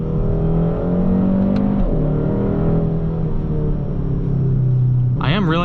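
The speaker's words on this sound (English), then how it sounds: "You can hear a good amount of that piped in noise." A 2021 Hyundai Sonata N Line engine, its sound piped into the cabin, drones steadily during manual shifting, with pitch rising and falling across gear changes and a brief voice-like sweep near the end.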